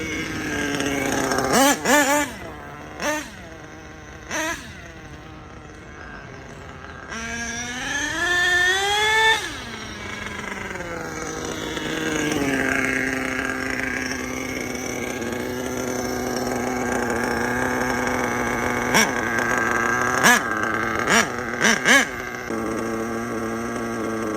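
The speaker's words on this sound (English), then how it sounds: "There really is no point in trying to tune a nitro engine until it's properly warmed up" A nitro engine on an HPI Savage 25 monster truck runs, being warmed up and tuned, with a buzzing, chainsaw-like idle, sharp revving blips, and a sustained higher-pitched whine, loud and close.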